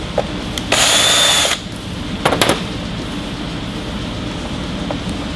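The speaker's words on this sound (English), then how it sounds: "make sure you don't drill the holes too big." A power drill whines in two short bursts, the first about a second long and the second briefer, over steady background hiss, drilling holes for a 2013 Dodge Challenger nitrous kit.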